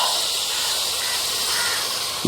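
Tamarind extract is poured into hot fish head curry, producing a loud, steady steamy hiss that holds evenly throughout, with a brief knock at the very end.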